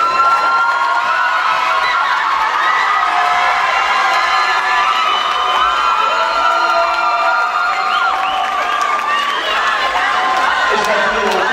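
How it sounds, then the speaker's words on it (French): A large crowd cheers, whoops and applauds loudly and continuously for the Miss Oise 2019 proclamation, dense and unbroken, with high voices shouting within the roar. "j'aimerais qu'on applaudisse vraiment très fort notre Missoise et nos 3 dauphines"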